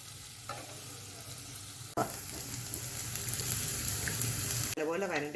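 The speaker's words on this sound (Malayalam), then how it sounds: "സവാള വരട്ടുന്നതിലേക്ക് ആവശ്യത്തിന് പച്ചമുളക് ഇട്ട് കൊടുക്കാം." Sliced onions and green chilies sautéing in a pan for samosa filling, a steady hiss that jumps louder midway as more goes in, with stirring scrapes and a brief voice near the end.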